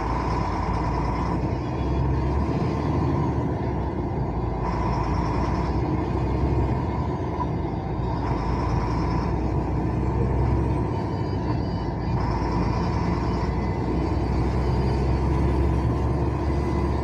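Inside a truck cab while driving, with windows closed and air conditioning needed; a steady low engine and road rumble fills the cab continuously, with no talking.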